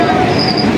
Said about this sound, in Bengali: আমাদের ট্রেন চলে এসেছে, এক্সপ্রেস।